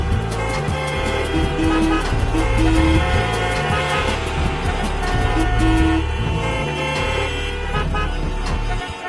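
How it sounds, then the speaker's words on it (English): Dense traffic noise with car horns honking repeatedly and overlapping, some long and some short toots, loud and continuous throughout. "Here, people honk even when the signal is red."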